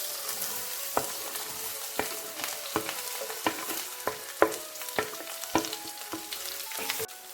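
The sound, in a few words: chopped jackfruit seeds and dried chilli sizzling in pan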